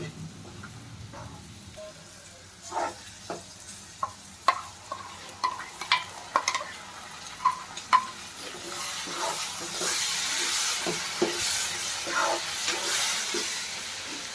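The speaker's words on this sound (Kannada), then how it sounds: "ಈ ಟೊಮೊಟೊದ ಹಸಿ ಸ್ಮೆಲ್ ಹೋಗೋವರೆಗೂ ಫ್ರೈ ಮಾಡಬೇಕು" Tomato puree frying in a pan for vegetable kurma, soft sizzle and hiss building under a series of sharp spoon-stirring taps and scrapes, fairly quiet and close.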